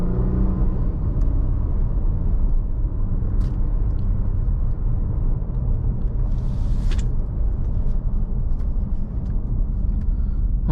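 A 2014 Acura TL 3.7 SH-AWD drives along with a steady, loud low engine rumble and road drone filling the cabin, holding even throughout with faint ticks above and no talking.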